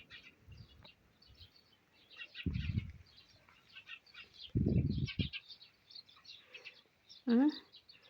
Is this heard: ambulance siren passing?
no